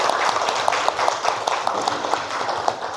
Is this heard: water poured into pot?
no